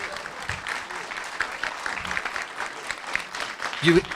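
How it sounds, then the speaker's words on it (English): An audience at a panel debate claps steadily, a dense wash of applause that continues throughout, with a voice briefly audible near the end. "Let's give our panelists a big round of applause."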